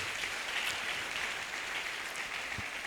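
A church congregation applauding after a scripture reading during a French-language sermon, a steady, even wash of many hands clapping throughout, moderately distant and unbroken.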